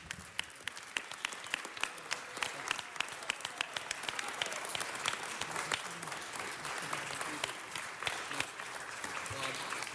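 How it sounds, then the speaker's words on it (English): A standing audience at a city council meeting claps, starting with scattered individual claps and swelling into sustained, fairly distant applause over about ten seconds. "Let's all stand up and give them a round of applause."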